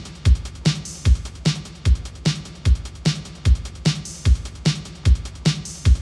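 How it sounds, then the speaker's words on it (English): Post-punk drum machine pattern built in FL Studio, with kick and snare driving a steady loop while drum machine open hats fill the gaps between triplet hi-hats, repeating evenly with no talk. "I went ahead and got a drum machine open hat to fill those gaps and just add to that kind of drum machine"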